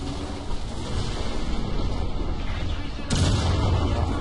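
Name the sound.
tank cannon firing in video game War Thunder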